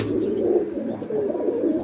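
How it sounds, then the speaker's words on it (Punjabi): Pigeons in a loft coo steadily in low, throaty murmurs, close and continuous with overlapping voices. "ਤੇ ਬਾਕੀ ਆ ਕਬੂਤਰ ਬੈਠੇ"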